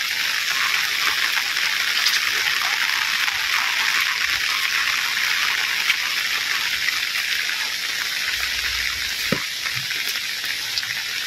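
Steady rain falling on a car, a dense continuous hiss of droplets drumming on the body at close range, even in level throughout with no voices.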